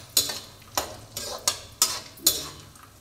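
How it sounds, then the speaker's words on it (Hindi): Grated coconut and almonds roast in a pan as a spatula stirs them, six or so crisp scraping strokes in an uneven rhythm, close and fairly quiet, with a faint sizzle between them. "गरी और बादाम दोनों चीज मैंने इसमें भूनने के लिए डाल दिए।"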